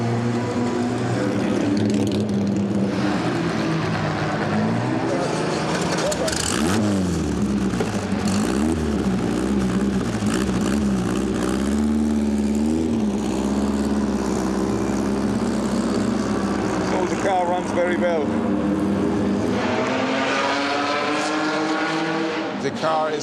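A classic race car engine roars at night at the Le Mans Classic, a loud continuous drone with rising and falling pitch as it passes and revs, while a voice speaks over it in places.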